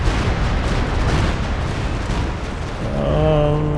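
A Walking Stuka rocket artillery barrage in Company of Heroes 2 rumbles loud and dense, with explosions blending into a continuous roar, followed near the end by a rising whine of incoming rockets.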